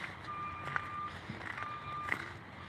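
A truck's reversing alarm beeps steadily in a repeating electronic pattern at a street encampment clearance, moderately near over a low rumble of background noise.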